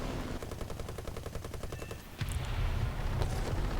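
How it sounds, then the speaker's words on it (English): Rapid machine-gun fire at ground targets in War Thunder, a fast regular burst of close, sharp shots for about two seconds, followed by a deeper rumbling roar of engine or impacts. "I'll try to shoot a few of these ground targets"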